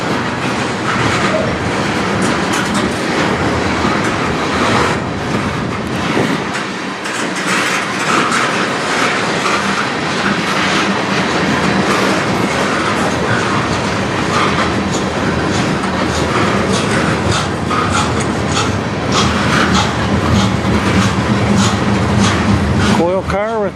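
A CN freight train rolls past steadily and loud on the Strathroy Sub in Sarnia, Ontario, with continuous wheel clatter and rumble throughout, some coil cars among the consist, and a voice talking faintly over it.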